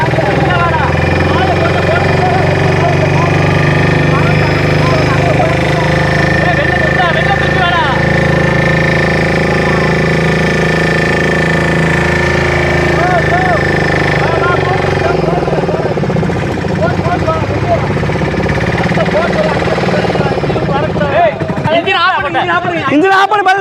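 An engine runs steadily at a constant drone during a flood in Karungulam, loud and close throughout, with people talking over it before the sound cuts off near the end.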